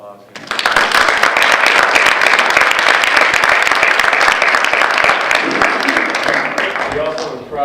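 Loud, dense round of applause from a meeting audience for runner Peter Kosgei at a 5K gathering, starting abruptly, sustained evenly and tapering near the end.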